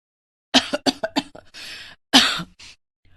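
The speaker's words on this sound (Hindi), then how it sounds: "वो खांस रही थी।" A woman coughing in a short burst of several rapid harsh coughs, a pause, then another loud cough with a smaller follow-up, close and alone with no talk.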